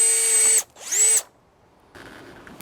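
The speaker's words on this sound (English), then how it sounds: "we're gonna go ahead and drill a pilot hole right in the center" A power drill bores a pilot hole into a vinyl fence in two short, loud whining bursts, the second rising in pitch, followed by a pause and faint handling noise.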